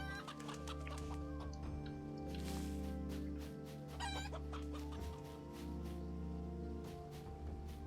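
Chickens in the CryoFall video game, clucking repeatedly in short bursts that run over a steady hum of background game music.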